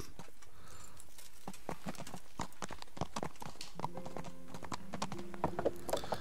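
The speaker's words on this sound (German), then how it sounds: "das ist mein Pferdchen" Horse hooves clip-clopping in Kingdom Come: Deliverance, a close, steady series of sharp hoof strikes at walking pace, with a brief tonal game sound swelling in the background toward the end.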